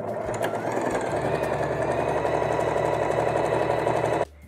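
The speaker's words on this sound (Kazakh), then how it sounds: "Басқа жағын тігістің еніне 1 сантиметр беріп тігіп шығамыз." Sewing machine running steadily while stitching a seam in fabric with a one-centimetre allowance for an embroidered scarf, a continuous close whirring hum for about four seconds that stops abruptly near the end.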